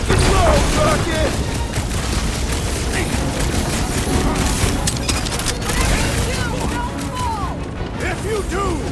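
Gunfire in the Guardians of the Galaxy video game rattles in dense bursts amid booms, clanks and crashing debris, with voices shouting over the chaotic battle.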